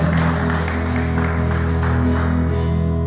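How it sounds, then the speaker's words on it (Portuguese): Worshippers at a family church service applaud, a dense patter of clapping spread over sustained keyboard or organ chords that linger beneath, the clapping thinning out toward the end. "Aplauda o Senhor, pode se assentar em nome de Jesus"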